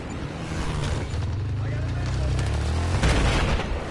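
Cannon fire from an enemy tank pounding the player's units in a World War II shooter game, a steady heavy rumble of booming shots and blasts with a sharper hit near the end, partly under a talking voice.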